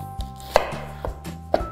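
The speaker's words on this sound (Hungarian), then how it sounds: "A vörös hagymát egész finomra vágom fel" A knife chops red onion finely on a board, about five separate sharp knocks at an uneven pace, close and clear with no talk.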